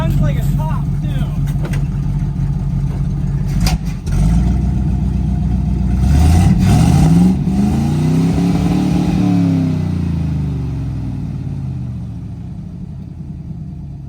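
A 1969 Chevrolet C50 truck engine runs up close, a loud, rough idle that rises in a rev around the midpoint and then settles and fades, with a person talking over it.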